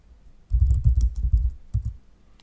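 Computer keyboard keys typed in a quick burst of clicks, then a short pause and a couple more keystrokes, close and fairly loud with no talking; commands entered at a Linux terminal while setting up Kali.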